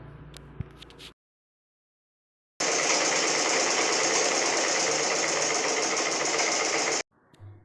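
A sewing machine stitches a nighty during an alteration, running loud and steady for several seconds after a silent gap, with fainter handling noises before and after.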